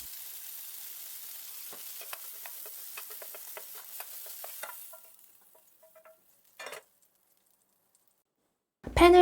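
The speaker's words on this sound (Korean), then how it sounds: "버터를 충분히 녹인 후에 데친 브로콜리를 살짝 볶아줄게요." Blanched broccoli sautéing in melted butter in a pan gives a steady close sizzle with light stirring clicks for several seconds, then dies away to near silence broken by a few soft knocks and a sharp clatter at the end.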